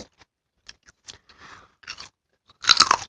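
Someone eating hard, crunchy food during a mukbang gives scattered crisp bites and crunches, sparse at first, then a loud, close crunching burst near the end with no talk.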